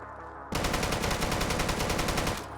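A burst of AK rifle fire in Deadside, a rapid, even automatic rattle lasting about two seconds, loud and close, with no talk over it.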